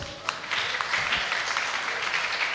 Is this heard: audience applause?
yes